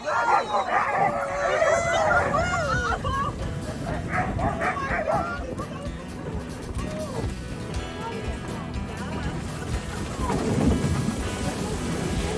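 Excited sled dogs in Juneau yip and bark in a loud, busy chorus just before a sled ride, strongest at the start and then fading into a rougher background with more scattered yelps and people talking.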